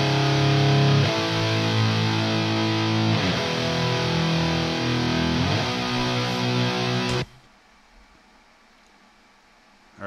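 Four stacked, heavily distorted rhythm guitars chug out dense, thick power chords in a steady, loud wall of sound for about seven seconds, then stop abruptly, leaving faint ringing and noise.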